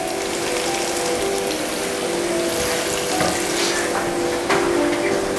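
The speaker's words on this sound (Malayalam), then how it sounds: "അത് നമ്മുടെ ചുവന്നുള്ളി ഇങ്ങനെ വഴണ്ട് വന്നുകൊണ്ടിരിക്കുകയാണ്" Shallots sizzle and fry in oil in a pan, a dense, steady crackling hiss that continues close and unbroken, without any talk over it.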